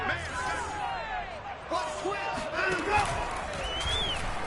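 A home crowd at an American football game roars and cheers in a big stadium, a dense rising wash of voices that runs throughout, with a commentator talking over it.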